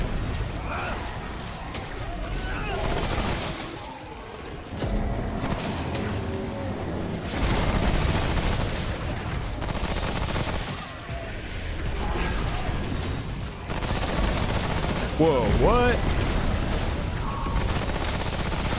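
Gunfire in Remnant: From the Ashes crackles in dense, repeated bursts against shooting enemies, loud and near, mixed with mechanical clanks and game noise, while a person talks over it.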